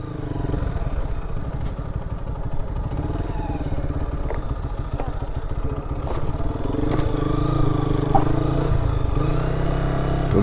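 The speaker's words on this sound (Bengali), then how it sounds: "তো বিচের ভিতরে বাইক নামাই দিলাম" A motorcycle rides down onto the sand of Inani beach near Cox's Bazar, its engine running steadily and close with clattering and scraping over rough ground, growing slightly louder toward the end.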